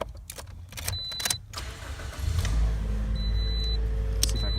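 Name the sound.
car engine being cranked to start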